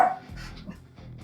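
A short, quiet clip of an indoor pet dog named Buster, opening with a brief bark followed by soft, low breathing and panting close by.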